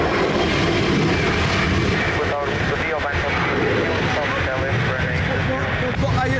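An Embraer 190 jet departs Lisbon Airport with a steady, loud broadband engine roar that fills the whole stretch, while a radio voice talks over it.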